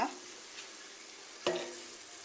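Onions sauté in a pan for aloe vera theeyal, a faint steady sizzle broken by a single clear stir or scrape at the midpoint.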